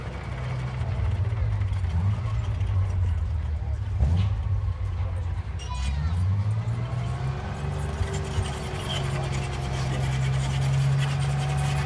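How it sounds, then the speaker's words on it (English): A restored WW2 Tiger tank's heavy engine rumbles steadily and loudly close by, its deep drone rising in pitch as the machine drives past, with the growl swelling and sliding throughout. "I'll just let you hear the engine as it goes by now. It's quite a sound."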